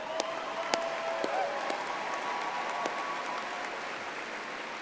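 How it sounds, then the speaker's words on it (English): A commencement audience at a Texas State arena claps in a soft, distant, sustained round of applause, with a few sharper claps and faint tonal sounds mixed in. "let's give that a round of applause"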